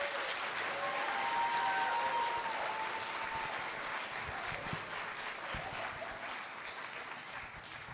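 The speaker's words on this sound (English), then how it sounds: "why don't we give them a big round of applause?" Sustained audience applause fills a short film festival venue after a filmmaker Q&A, dense and steady clapping that gradually thins toward the end.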